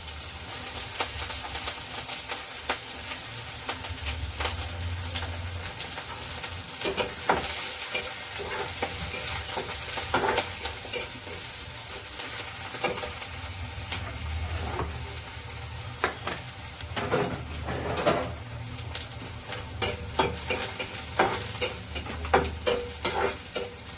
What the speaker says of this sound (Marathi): त्यानंतर लसूण आणि कांदासुद्धा घालून घेऊया त्यानंतर हिरवी मिरची